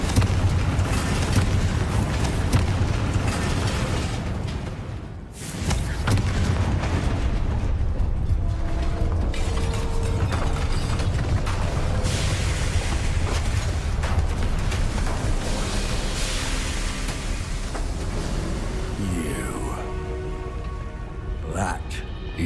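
Confringo fire spell exploding in Hogwarts Legacy, heavy booming blasts over a dense, constant roar of rain-like crackle and rumble, with voices speaking over it.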